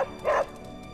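A dog named Charlie in Marvel's Midnight Suns gives a single short, close bark, loud and alone against quiet game ambience.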